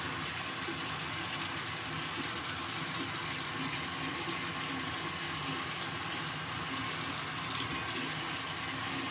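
Tap water runs steadily into a sink to wet the face before shaving with a five-blade razor. A continuous, even gush with no break and no talk.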